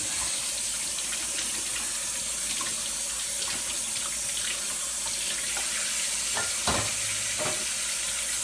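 Water runs steadily from a tap as a juicer part is rinsed under it, a continuous close splashing hiss with a few clatters of the plastic piece against the sink.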